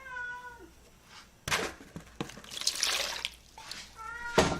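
A recently fed house cat meows loudly and close by, with a drawn-out cry at the start and another at the end. Running tap water and a thunk come in between, and no one speaks.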